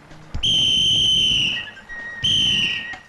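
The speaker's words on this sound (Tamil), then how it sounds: "அதேங்கப்பா விசில் அடிக்கிறது எப்படி உங்ககிட்ட தான் கத்துக்கணும்." A shrill whistle gives two loud, close blasts, a long one and then a shorter one, over faint background noise in a comedy scene.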